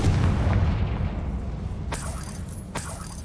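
A Confringo fire spell blasts in Hogwarts Legacy, with two sharp explosive bursts cutting through a low, rumbling game background.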